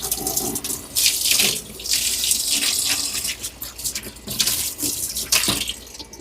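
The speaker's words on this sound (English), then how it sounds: "You want to get the water with your hose." Water gushes steadily from a hose, a continuous splashing rush that swells and dips slightly throughout.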